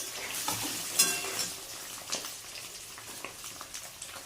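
Food frying in hot oil in a pan in a home kitchen, a steady close sizzle with a few scraping stirs and utensil clinks, no voices.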